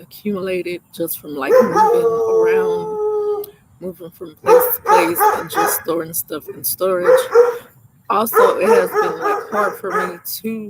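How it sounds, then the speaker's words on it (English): A dog barks repeatedly at a stranger outdoors, with loud close yips and howling barks coming in bursts over a person talking steadily. "That's not my dog, so that's why it's barking at me."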